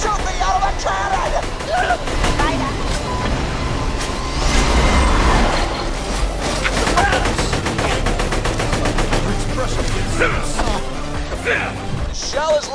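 Rapid bursts of automatic gunfire crackle continuously amid chaotic action in the video game Borderlands: The Pre-Sequel, with voices shouting over the dense, loud shooting.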